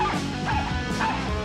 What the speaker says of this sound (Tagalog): isang simulator ng tumatahol na aso